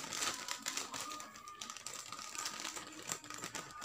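Scissors cut open a plastic pouch packed inside a mystery box, making a quick series of close, crisp snipping and crinkling clicks.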